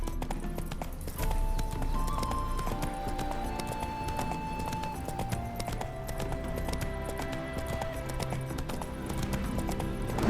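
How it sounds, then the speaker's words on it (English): Roach the horse's hooves clip-clop at a steady gallop in The Witcher 3, running beneath a continuous layer of sustained game music. "Spooking my horse."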